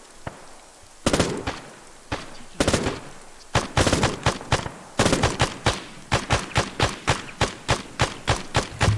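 Bursts of rifle and machine-gun fire rattle in the military shooter game ArmA, starting with scattered shots and building into steady, rhythmic volleys of loud, close reports in quick succession.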